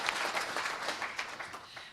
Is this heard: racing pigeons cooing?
no